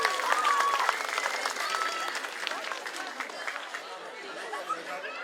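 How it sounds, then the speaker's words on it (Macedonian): An audience at a pre-New Year community program in Resen, Macedonia, claps together in a dense burst that gradually thins and softens, with some crowd murmur underneath. "ве молам за еден аплауз"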